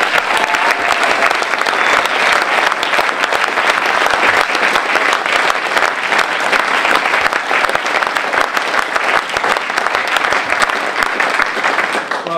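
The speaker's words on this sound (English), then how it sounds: "I'm really grateful for that applause" Crowd applause greets Scotland's First Minister Alex Salmond at the launch of his SNP re-election campaign, loud sustained clapping from a large audience, continuous and unbroken, with no one speaking.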